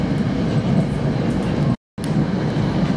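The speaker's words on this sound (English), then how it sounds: "Oh, we just passed the Norfolk Southern." A Norfolk Southern freight train rolls past close by, a loud, steady rumble and rattle of rail cars that drops out briefly partway through before resuming.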